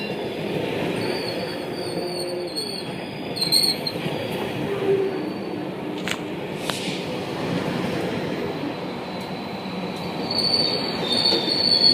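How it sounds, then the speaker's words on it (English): A freight train rolls past with loud, sustained metallic wheel squeal layered over a steady rumble of railcars and some clicking track noise, close by and continuous for the whole stretch, no voices. "It is a freight train."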